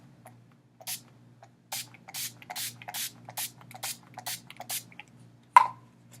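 A luminous face setting spray pump mists repeatedly, about a dozen short, crisp hissing bursts in an uneven rhythm, close and clear, with a sharp click near the end.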